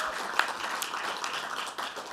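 Applause from the audience at a faculty award ceremony during MLK Week, a moderate and steady patter of clapping that holds evenly throughout without fading.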